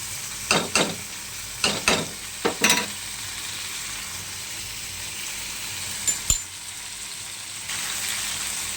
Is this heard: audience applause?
no